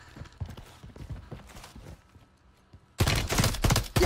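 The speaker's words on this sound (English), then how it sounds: "Wait, it's a burst gun?" Burst-fire gun in Warzone 3, short clusters of crisp shots; quieter clicking taps early, then a loud dense run of rapid bursts in the last second.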